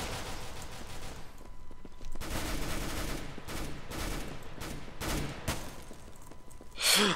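Bursts of gunfire shot through a smoke screen in the video game CS:GO, several loud rapid volleys in quick succession with brief gaps between them and a closing sharp burst.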